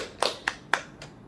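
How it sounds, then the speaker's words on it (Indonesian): Students give a brief round of hand claps, just a few sharp separate claps spaced apart over about a second, fairly faint in a room. "Tepuk tangan dulu dong"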